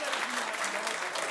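A studio audience on a daytime talk show claps in a dense, sustained burst of applause, fairly loud and continuous throughout.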